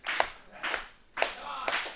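A wrestling crowd at Deadly Resolution 2022 claps in four bursts spaced about half a second apart. The claps ring out loud and close over a faint background murmur of talk.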